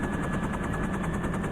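A helicopter in a cartoon tornado scene, its rotor chopping in a steady rapid pulse over a dense engine roar, loud and continuous without any voices.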